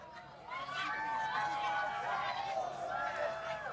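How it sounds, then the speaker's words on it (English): Crowd of eclipse watchers swelling into a sustained roar and cheer as a total solar eclipse reaches totality, loud and continuous throughout, with many overlapping voices blending into a broad wash of sound. "let's listen to the crowd as this goes into totality"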